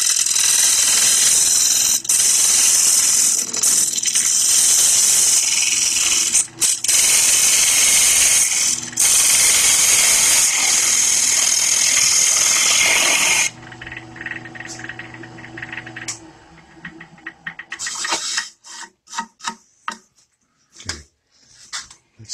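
A hollowing tool making a cutting pass inside turned wood on a lathe, a loud continuous rough scraping roar for about thirteen seconds, then the cut stops, leaving a quieter machine hum and scattered knocks and clatters.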